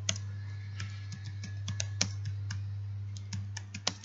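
Typing a header on a computer keyboard produces a quick, irregular run of crisp key clicks, close and fairly quiet, over a steady low electrical hum.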